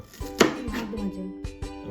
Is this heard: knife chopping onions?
yes